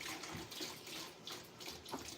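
Hot water runs steadily from a kitchen tap, a soft, continuous hiss with faint splashing that stays low and even throughout.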